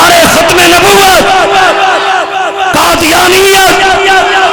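A large crowd at a mosque gathering during a night religious address roars a slogan back in unison, loud repeated shouted responses, close and dense.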